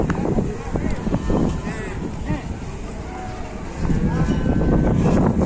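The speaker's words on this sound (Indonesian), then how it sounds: "Anginnya sedikit kencang." Strong outdoor wind buffets the microphone in loud, continuous low rumbles during a scene of a rampaging cow caught on a truck, with people talking in the background.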